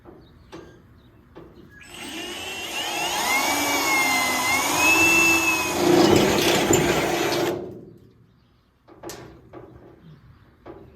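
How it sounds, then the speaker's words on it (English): A step drill bit bores through a steel trunk deck lid on a 1969 Trans Am, a loud, steady whine and grinding rising and shifting in pitch over several seconds, then cutting off to quiet and light handling noises. "punch a hole with a step drill bit and drill right through all 4 of these"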